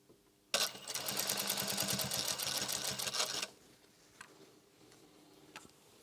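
A sewing machine stitches and back stitches through the layers of a pleated fabric face mask, running in a steady rapid whir for about three seconds, then stopping, followed by faint handling noises.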